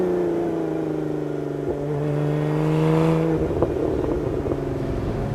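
A 2023 Lotus Emira's engine, mounted behind the cabin, revs with plenty of intake noise: a loud, steady harmonic drone that swells toward a peak, then drops into rougher, uneven pulses, heard alone.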